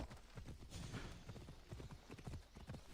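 A horse in the Assassin's Creed Odyssey video game trots with steady, rhythmic hoof clip-clops, moderately close and fairly quiet, continuing throughout without talk.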